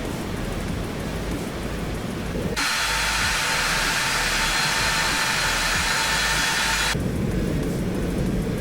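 A broad, steady roar of aircraft engine noise in the flight simulator X-Plane 12 during a landing approach to Homey Airport, swelling loudly for several seconds in the middle before dropping back to a lower drone.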